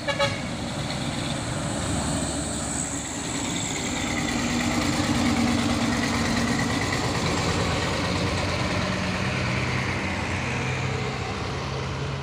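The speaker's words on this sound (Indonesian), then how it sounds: "Truk tronton Puso Victor dan ada juga truk HDL 136 PS" Idling diesel engines of Fuso Victor and HDL 136 PS heavy trucks rumble steadily and continuously at moderate volume, a low constant drone with no talk over it.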